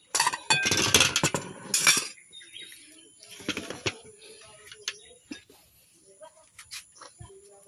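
Plates and dishes clink and clatter in a home kitchen, a dense burst of knocks and chinks early on, then scattered lighter taps as tableware is set down, with voices chatting faintly nearby.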